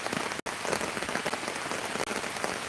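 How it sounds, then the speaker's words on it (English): Rain falling steadily on a hammock tarp at a camp, a dense, close patter of drops that drums continuously, broken by two very brief dropouts. "Yeah, it's raining pretty good."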